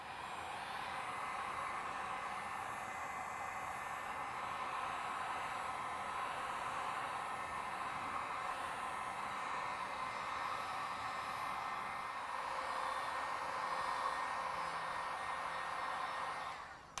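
A heat gun blasts a steady, unbroken airflow hiss while heating a plastic car bumper crown, holding at a constant level throughout with no talk.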